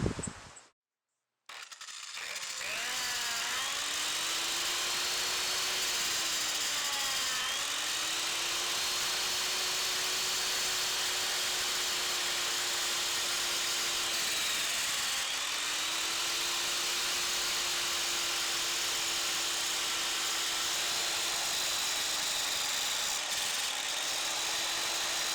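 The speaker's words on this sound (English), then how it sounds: "I just got a Chinese grinder. I'm just going to take it and drag her across." An inexpensive angle grinder cuts through a steel leaf spring being made into a bowie knife, a loud, sustained whining grind with slight pitch dips as the disc bites, running alone after a brief start.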